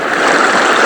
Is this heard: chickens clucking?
no